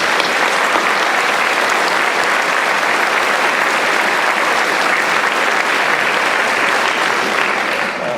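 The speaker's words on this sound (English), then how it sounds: "Let's give a round of applause to these students one more time" A ceremony crowd in Natchitoches gives students at a matriculation ceremony a long round of applause, dense and even clapping that holds steady for several seconds before easing slightly at the end.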